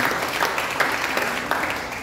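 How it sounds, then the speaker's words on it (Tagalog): Church congregation applauding loudly, a dense continuous patter of many hands clapping together for about two seconds. "At pumalakpak ng malakas sa ating Panginoon."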